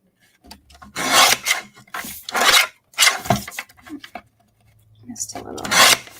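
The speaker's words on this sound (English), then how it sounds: "So I'm just going to trim the top off." Paper being trimmed for a handmade mini album, heard as a series of close rasping, scraping strokes in irregular bursts with short pauses between them.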